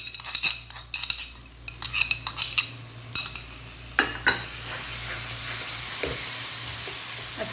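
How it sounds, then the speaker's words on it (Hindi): Mixed vegetable masala with curd and pickle frying in a pan, with a steady sizzle under repeated scraping and clinking stir strokes, the hiss swelling louder and more continuous toward the end. "अच्छे तरीके से बस इसको मैं फ्राई करूंगी।"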